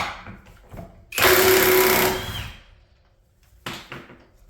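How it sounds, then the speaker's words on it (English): A cheap Hercules impact wrench from Harbor Freight, fitted with a 19 mm weighted socket, removes a bolt on a 1994 Honda Civic engine with a loud, near burst of about a second of rapid hammering, then a short second burst. "this is just a cheap Hercules impact from Harbor Freight"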